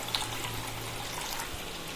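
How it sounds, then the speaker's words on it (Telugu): Milk poured from a glass into a cooking pot already holding water, for making rava kesari: a soft, steady trickle of liquid at low volume, continuous for the full two seconds. "గ్లాస్ పాలు వేసుకోవాలి."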